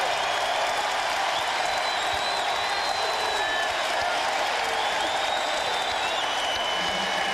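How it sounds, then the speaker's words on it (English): A roaring basketball arena crowd during a 2001 playoff game between the Bucks and the Hornets in Charlotte, loud, dense and unbroken, with cheering, clapping and whistles blending into a wall of noise. "This crowd is reminiscent of the crowds of years ago at the Charlotte Coliseum. You can barely hear yourself think in this place."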